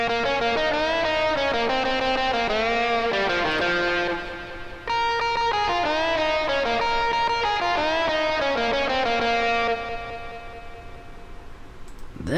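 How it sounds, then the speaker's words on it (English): Tracker-style melodic music with a VST echo effect in OpenMPT, repeating synth notes trailing into echoed repeats, loud and continuous with a brief dip midway and no talk. "we can already hear that echo going on"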